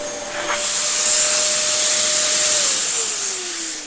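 A Dyson DC07 allergy vacuum cleaner runs steadily with a loud, close airy hiss and a whining motor tone that drops in pitch near the end.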